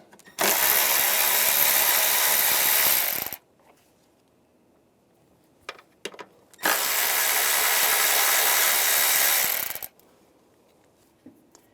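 A 10mm socket ratchet takes two nuts off the engine of a 2011-2018 Ram 1500 3.6L V6. Two loud, sustained whirring bursts of about three seconds each are separated by a quiet gap with a few faint clicks, and no one speaks.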